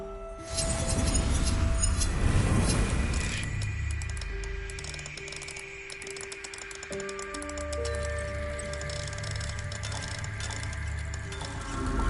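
The Alohomora unlocking spell in Hogwarts Legacy works a lock mechanism with a steady run of ratcheting, clicking and gear-like clanks layered over ringing magical tones, continuous and fairly close.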